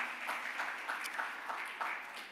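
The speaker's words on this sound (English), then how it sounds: "I would request everybody to give him a big round of applause for this" Audience applause at a shareholder meeting, a steady wash of many hands clapping at moderate distance with no speech over it, holding fairly even throughout.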